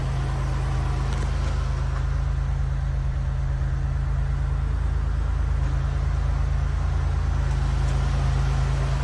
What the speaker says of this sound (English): let's see if she'll drive out under her own power